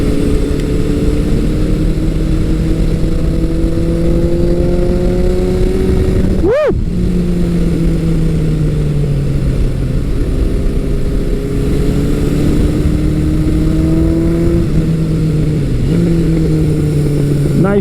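A Suzuki GS1100 or Kawasaki Versys 1000 LT engine pulls steadily under throttle, its pitch rising through the gears with brief dips at shifts and a sharp whoosh partway through, loud and continuous with wind noise throughout.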